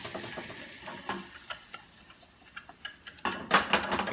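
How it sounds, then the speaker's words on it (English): A whisk working flour into melted butter for a roux, giving soft scraping ticks and taps against the pan at an irregular pace, quiet and close with no talk, louder in a brief burst near the end. "I'm going to whisk it until it forms that roux"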